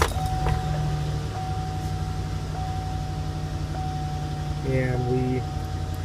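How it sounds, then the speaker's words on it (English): A van engine idles steadily with a low continuous hum and a faint tonal whine, close and fairly loud, with a brief rising mechanical tone near the end; vehicle fitted with an inverter and high-idle system. "Start the vehicle."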